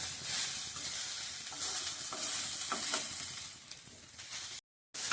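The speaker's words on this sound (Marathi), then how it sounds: "हे चांगलं फुलेपर्यंत साबदाने चांगले मोठे मोठे होईपर्यंत चांगलं बारीक गॅसवर मंदाचर भाजून घ्यायचं" Sago pearls roast dry in a pan over a low gas flame while being stirred, giving a steady close scraping and soft rustling, broken by brief louder scrapes, then a sudden short silence before the stirring resumes.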